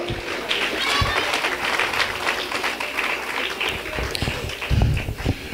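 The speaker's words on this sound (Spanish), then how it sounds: "Dense un fuerte aplauso al Señor" A church congregation claps loudly and steadily for the Lord, a dense continuous wash of many hands filling the room, with a few scattered voices underneath.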